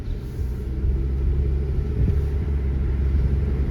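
A 2006-2011 Toyota Camry SE with about 176,000 miles drives and accelerates, its engine a steady, loud low rumble with road noise heard from inside the cabin, no talking.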